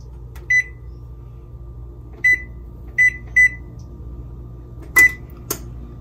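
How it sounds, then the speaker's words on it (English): Five short electronic beeps sound from an oven's control panel as the temperature is set to 200 for curing homemade bacon, spaced unevenly, with a couple of soft clicks and a low room hum underneath. "So I'm gonna set the temperature to 200"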